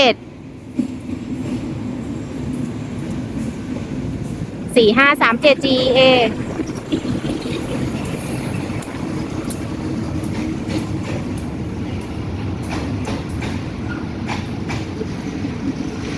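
A train arrives at a Bangkok station platform, rumbling continuously nearby with rattling and clanking, a brief squeal of brakes, and a steady rolling hum throughout.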